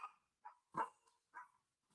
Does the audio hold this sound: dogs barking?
yes